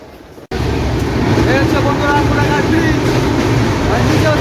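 Garib Rath Express hauled by a WAP-7 electric locomotive running fast, a loud steady rumble of wheels and rushing air that starts abruptly after a brief quieter moment and holds constant.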